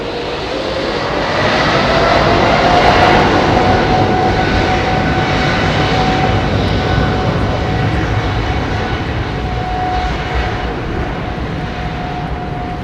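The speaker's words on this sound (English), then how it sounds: "Still hear those GEs singing away." GE jet engines of a KLM Boeing 747 roar steadily at Heathrow, a loud continuous broadband rumble with a thin high whine running through it, holding level throughout.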